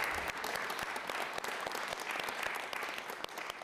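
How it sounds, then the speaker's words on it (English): Audience at a New York City Council committee hearing applauding the staff, a dense, even clatter of many hands clapping that continues steadily throughout at moderate distance without speech. "Please give them a big round of applause."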